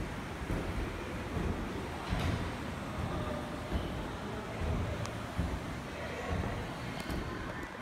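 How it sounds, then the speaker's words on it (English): Strong wind gusting outdoors in Austin during heavy rain, a steady broadband roar with periodic louder gusts and buffeting, continuous and close, no voices. "It's so windy outside right now that this thing is spinning."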